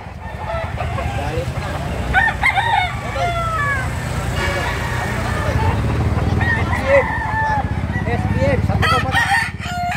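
A native rooster crows repeatedly at close range, loud drawn-out calls with clucking between them, while people talk nearby throughout.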